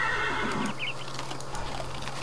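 A horse whinnies in the game Minecraft, a bright rising-and-falling neigh in the first moments, followed by faint clip-clop hoofsteps over steady background ambience.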